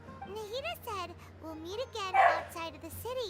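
A pet dog barks excitedly at home, with a brief, fairly loud yelp standing out under ongoing game voice dialogue.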